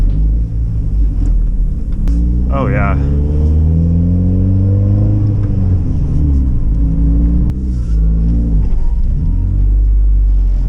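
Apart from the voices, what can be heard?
car engine rumbling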